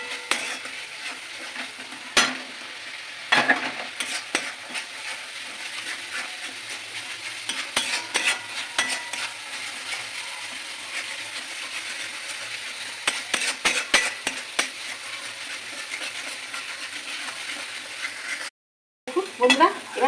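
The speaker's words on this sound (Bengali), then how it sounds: "এবার আমার মশলা কষতে কষতে তেল বেরিয়ে গেছে" Masala for chicken curry fries in hot oil while a spoon stirs it, a close, steady sizzle broken by repeated scraping and clanking strokes against the pan, with a brief cutout near the end.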